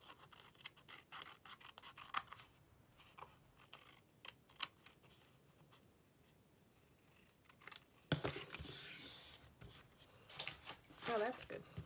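Quick snips and scratchy cuts from scissors trim a Halloween coffin-shaped paper tag, close and fairly faint, with a burst of louder crinkling near the end while someone talks quietly.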